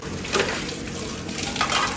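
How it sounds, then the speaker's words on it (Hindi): Running tap water splashes steadily while dishes are washed by hand, with a couple of soft clinks of pots and utensils in the sink. "अभी जो है ना मैं धुलाई कर रही हूँ बर्तन"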